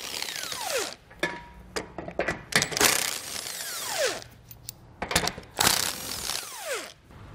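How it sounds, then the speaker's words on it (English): A ratchet wrench with a 15 mm socket loosens the bumper beam nuts on a 2021 Chevrolet truck, sounding in quick clicking bursts close to the mic, broken by short pauses and metallic clunks. "I'm gonna take a 15 millimeter socket and get this pulled off."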